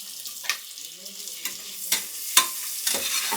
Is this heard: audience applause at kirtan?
no